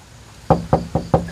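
Four firm knocks on a house door, close and evenly spaced, each a sharp thud with a short decay, following a brief quiet lead-in with no talking.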